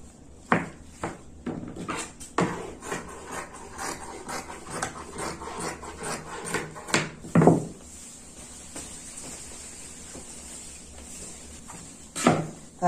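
Satin fabric being cut, heard as a series of close irregular snips and crisp rustles spread across the clip with quiet gaps between them and no talking.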